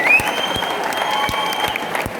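An audience at a college team event claps in sustained, dense applause, with scattered sharper claps standing out throughout.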